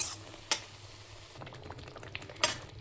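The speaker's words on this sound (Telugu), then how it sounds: "చూసారు, ఇది బాగా ఉడుకుతుంది కదా." Paneer butter masala curry simmering over a low flame, a soft steady bubbling punctuated by two sharp clinks of a utensil against the pan.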